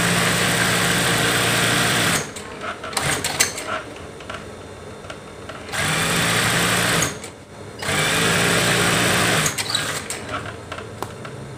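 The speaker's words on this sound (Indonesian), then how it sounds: "Dan ini cara jahit spray tercepat atau termudah." A sewing machine stitches a fitted bed sheet in rapid motor-driven bursts, loud and close, with short pauses between runs as the fabric is repositioned.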